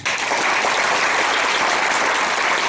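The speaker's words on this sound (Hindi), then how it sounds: "तालियां" A devotional storytelling audience breaks into a short burst of loud, dense applause, many hands clapping together close by with no voices over it.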